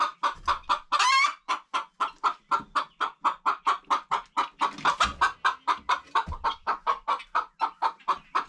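Chickens cluck steadily and rhythmically at close range, a rapid series of repeated clucks with a brief louder squawk near the start and more clucking layered in midway.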